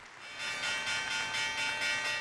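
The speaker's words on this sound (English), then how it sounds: "Closing bell on the New York Stock Exchange sounded on another day of steep declines in stock values" Closing bell of the New York Stock Exchange ringing in steady, rapid repeated pulses, moderately loud and sustained with a metallic ring, heard alone.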